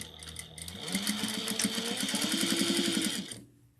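A sewing machine runs a fast, steady stitching burst along a pillowcase seam, starting after a short pause and stopping abruptly near the end, close and loud with no talk.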